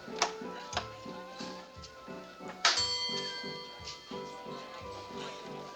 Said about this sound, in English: How many times can you ring the bell?